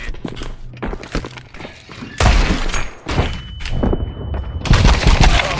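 Counter-Strike: Global Offensive gunfire, sharp loud broadband shots bursting in at intervals amid busy in-game noise, with a sniper rifle on the scene; no voices over the shots.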